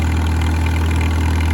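A Farmall H tractor with a rebuilt engine runs steadily at idle-like speed, a loud, constant low throb and hum close by, with no talking.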